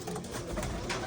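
Pigeons coo softly in low, rounded calls, faint and brief against a quiet background.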